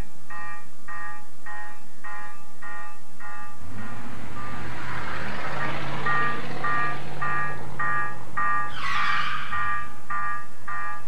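A model locomotive's electronic bell on a model railroad layout at a custom crossover rings in a steady, evenly spaced series of tones, with a rumbling passing train and a brief hiss partway through, and no talk.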